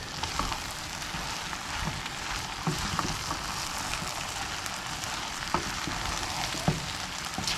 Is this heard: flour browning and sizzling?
yes